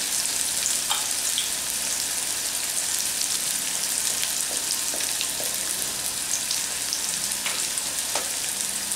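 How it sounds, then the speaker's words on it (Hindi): Chopped onions with a pinch of asafoetida sizzle steadily in hot oil, a dense continuous frying hiss with scattered small pops and occasional stirring, close and even throughout. "ऑनियन को हम 1 मिनट तक पकने देंगे ऑयल में"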